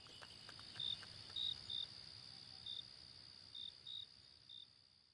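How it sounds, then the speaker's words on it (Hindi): Crickets chirp at night in a quiet rural setting near an old mansion: about seven short, bright trills spaced irregularly over a faint, steady insect hum, distant and soft. "झींगुर की किरकिर की आवाजें भी इस समय बड़ी भयानक लग रही थीं।"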